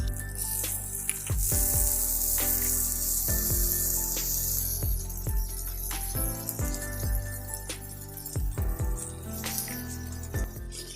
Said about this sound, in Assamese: এতিয়া কাটি থোৱা বিলাহীখিনি দি ল'ম।